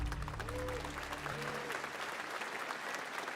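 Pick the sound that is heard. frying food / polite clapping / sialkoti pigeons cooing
polite clapping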